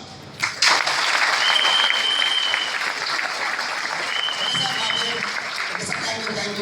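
An audience at a talk applauds in a steady, dense wash of clapping that swells after a brief start and keeps going for several seconds, fairly loud and with a few voices mixed in.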